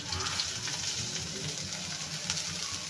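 Chopped onion fries in oil until golden, with a continuous close, even sizzle and light crackling. Faint stirring sounds are heard under it, and no talk is audible.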